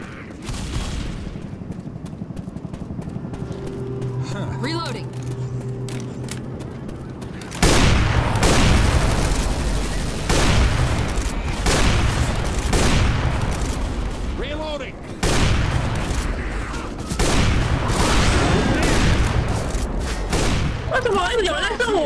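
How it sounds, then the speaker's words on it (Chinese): Rapid bursts of gunfire and explosions from the video game Left 4 Dead 2 come in loud, dense volleys, broken by short pauses, with people talking over the action. "你乱开枪！"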